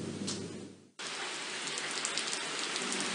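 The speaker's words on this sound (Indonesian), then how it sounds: "kawasan Kabupaten Aceh Jaya mengalami hujan dengan intensitas sedang hingga lebat" Heavy rain pours down in Aceh Jaya, a dense steady hiss of drops hitting surfaces that briefly fades, then returns at full strength after a near-silent instant and holds loud to the end.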